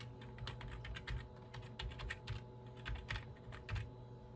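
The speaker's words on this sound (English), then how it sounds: "I think you type administrator in French." Keys clatter on a Dell computer keyboard as a word is typed in a quick, uneven run of close, light clicks over a low steady hum.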